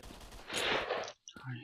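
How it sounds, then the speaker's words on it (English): Gunfire in the shooter game S.T.A.L.K.E.R.: Shadow of Chernobyl, a burst of shots rising to a loud, dense volley, then a brief silence before scattered sounds resume, with faint voices underneath. "I hear gunshots."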